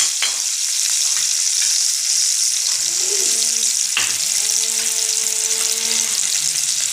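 Oil sizzles steadily in a pan for a dry cluster bean (gavar) stir-fry, with scraping stirring strokes and a sharp clink around the middle as things are moved about; the frying hiss runs continuously throughout.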